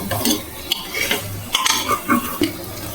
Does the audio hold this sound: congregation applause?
no